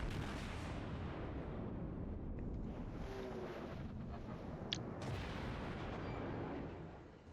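A salvo from the German battleship Tirpitz's main guns in World of Warships, a deep sustained rumbling boom that fills the whole stretch, heavy and low, with a faint sharp click partway through.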